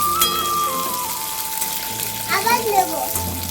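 Chopped garlic and chillies fry lightly in oil for dry chilli chicken, a moderate sizzle with stirring scrapes, heard close while a background tone hums and voices murmur faintly.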